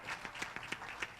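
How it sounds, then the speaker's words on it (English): Audience at an International Women's Day 2021 celebration clapping for the two event MCs, a brief, faint, uneven patter of hands. "give a big round of applause to both our MCs who did very well"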